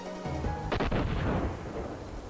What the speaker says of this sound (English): I like the sound of an explosion in the morning.